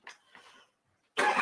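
A brief murmur of faint voices, a short silence, then a loud, close cough bursts right into the microphone.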